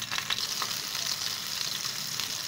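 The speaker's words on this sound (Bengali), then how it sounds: "সেই তেলের মধ্যে আমি এখন ফোড়ন দেব সাদা জিরে আর তেজপাতা" White cumin seeds and a bay leaf hit hot oil left over from frying rohu fish, giving a steady, close crackling sizzle throughout with no talk.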